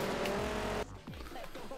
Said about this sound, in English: I'm just not enjoying driving this car at the moment